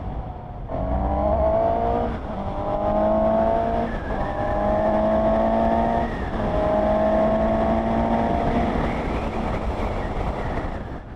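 A 2020 Suzuki GSX-S750 motorcycle revs hard through several gears, its engine note climbing in rising sweeps with brief dips at each shift, loud and close with no talking.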